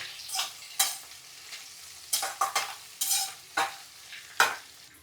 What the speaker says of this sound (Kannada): ಶುಂಠಿ ಮತ್ತು ಬೆಳ್ಳುಳ್ಳಿ ಹಾಕಿದ ಮೇಲೆ ಇನ್ನೊಂದು ಸ್ವಲ್ಪ ಚೆನ್ನಾಗಿ ಗೂರಾಡ್ರಿ